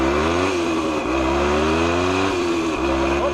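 A 1975 Yamaha DT125B motorcycle engine, clutch plates previously stuck, runs steadily and loud nearby, its pitch rising and dropping as it shifts through the gears with two clear dips between shifts.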